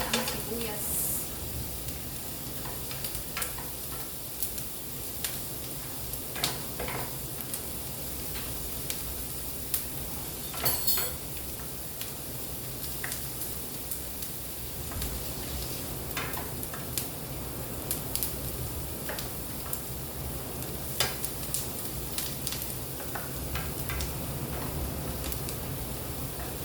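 Onions fry and sizzle in a pan while being browned for pork fried rice, a steady close hiss with occasional scraping stirs running the whole time and no voices.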